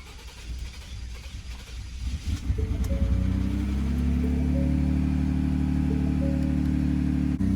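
A Ford F-150 with the 2.7 engine, fitted with new Xtreme Di injectors and running an ethanol blend, cranks for a few seconds and catches, then settles into a loud, steady, close idle with no talking.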